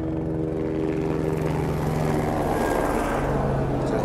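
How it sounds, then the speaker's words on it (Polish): A helicopter flies over a Himalayan trek near Everest base camp, giving a steady, droning engine and rotor hum that holds throughout against wind. "Chociaż dzisiaj helikopter leci."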